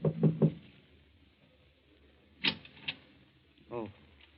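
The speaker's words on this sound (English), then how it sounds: "knocks at the door of number" Knocks on a door in a 1942 old-time radio mystery drama, a quick cluster of three raps followed later by a couple of single knocks, with a voice answering briefly near the end.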